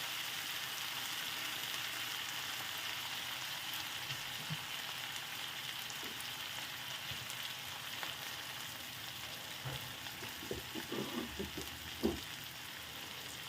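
Tomatoes frying in a pan over a high flame give off a steady, even sizzle throughout, with a few soft stirring clicks and scrapes near the end.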